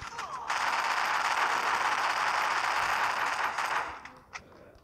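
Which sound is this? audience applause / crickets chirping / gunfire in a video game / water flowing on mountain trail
gunfire in a video game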